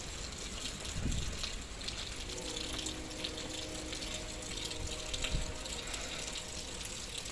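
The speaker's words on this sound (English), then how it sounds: "It is pouring rain, guys." Heavy, cold rain pours down outdoors as a continuous, even wash of hiss, with a couple of low dull thumps breaking through the steady downpour.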